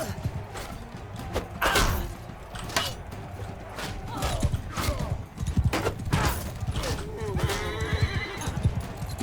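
Horses whinny several times amid steady clip-clop of hooves, set in a medieval battle video game with a mounted cavalry fight against bandits; clashing mechanisms and creaks mix into a busy, continuous din.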